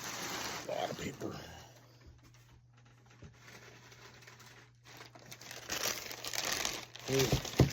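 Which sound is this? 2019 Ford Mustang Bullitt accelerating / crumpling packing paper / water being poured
crumpling packing paper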